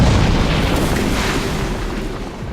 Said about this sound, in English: An explosion deep in the mine killed 9 men and boys.